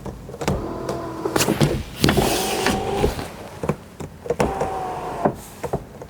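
A 2001 BMW 325xi E46 moonroof motor whirs in several short electric bursts close by inside the car, with clicks and clunks between runs.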